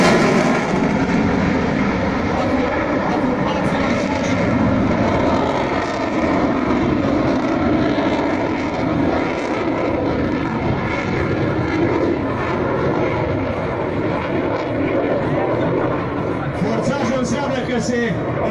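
A MiG-21 jet fighter roars continuously overhead during an air show at Focșani airfield in 2018. The loud, steady engine noise lasts throughout while an announcer talks over it.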